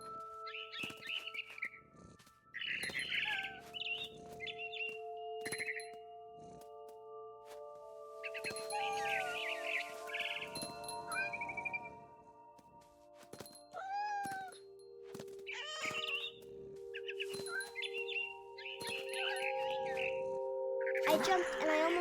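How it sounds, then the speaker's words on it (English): A barn swallow chirps in scattered high calls in What Remains of Edith Finch, mixed with cat meows and sustained soft musical tones. "It was a barn swallow going back to her nest."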